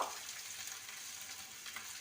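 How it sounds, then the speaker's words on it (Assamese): Steady, fine sizzling of onions frying in oil, a continuous hiss with no voices and no pauses. "এইখিনি 5-6 মিনিটলৈ ভাজি থাকিব।"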